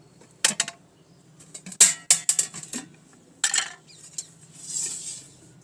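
Iron wok set down on a lit stove before frying, giving several sharp metallic clanks and scrapes close by, with a few seconds of quieter rattling between them and a soft hiss near the end.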